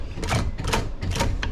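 A sewing machine runs in three or four short bursts while back stitching across a zipper on a cover seam, each run lasting a fraction of a second with brief pauses between, close and steady.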